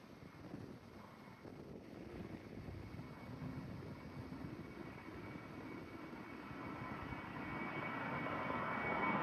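Passenger jet departing overhead at Gatwick airport, its broad engine roar steady and building louder toward the end, with some wind rumble on the microphone.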